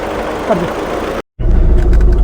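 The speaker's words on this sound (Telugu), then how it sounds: "ఇట్లా ఇంజన్ సౌండ్ వస్తుంది" A Volkswagen Polo diesel engine with 230,000 km on it idles nearby with a steady, rough rumble, briefly cutting out before resuming.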